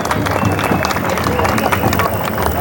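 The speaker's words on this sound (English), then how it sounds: "So give yourself a pat on the back and another big clap." A rally crowd in Melbourne claps and cheers in a busy mix of hands and crowd noise, with voices mingled in the din.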